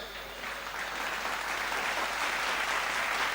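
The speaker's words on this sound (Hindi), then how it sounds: "ताली सब बजाओ तब ये हाथ नीचे आएगा" Audience at a Hindi comic poetry gathering clapping together, a dense, steady wash of applause that swells slightly and holds loud throughout.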